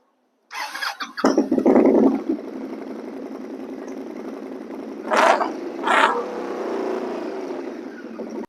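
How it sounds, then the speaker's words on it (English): An Indian Scout Rogue motorcycle with an aftermarket exhaust cranks and fires up loudly, settles into a deep, steady idle, then gets two sharp throttle blips before idling again. "the exhaust still sounds phenomenal"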